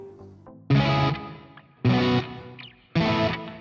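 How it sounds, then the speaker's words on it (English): Three loud electric guitar strums through a Nux Trident multi-effect reverb, each ringing out with a long reverberant tail that fades between chords, heavily processed. "And then you have reverb."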